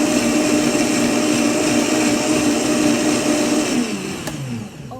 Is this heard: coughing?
no